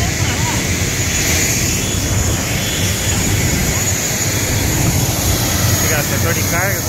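Turboprop engines of an ATR 72-500 airliner on approach to Congonhas airport, a steady loud broadband roar filling the whole clip, with faint voices mixed in.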